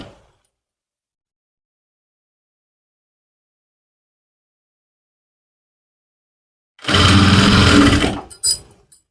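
A sewing machine runs one quick burst of a little over a second while stitching a trouser waistband, followed by a brief second whir and a click, after long near-silence.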